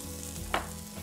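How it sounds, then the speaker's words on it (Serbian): Chopped onion goes into a heated pot with about five spoons of oil for a vineyard-style fish soup, giving a short close sizzle that flares suddenly midway over a low background hum. "i luk odmah ide u šerpu."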